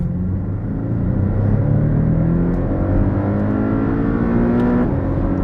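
A sports car engine, an Audi TT or Porsche Cayman, revs hard to just over 7,000 RPM and climbs in pitch, a loud close roar that builds steadily before dropping back briefly near the end.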